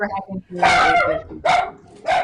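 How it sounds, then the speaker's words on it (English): A dog barks in several loud, close, sharp bursts in an indoor room, mixed in with a person talking. "sorry about the dog."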